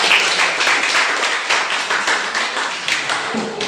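A classroom applauding after a group presentation on corrosion, a burst of mixed, uneven clapping from students that fades slightly over a few seconds, loud and close.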